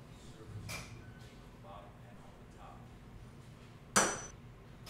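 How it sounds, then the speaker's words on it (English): A hardened center punch strikes a steel bolt end in a testing lab, one sharp, ringing metallic hit near the end after faint softer taps, with a voice speaking quietly beneath. "The lab technician uses a hardened center punch to indent both ends of the bolt."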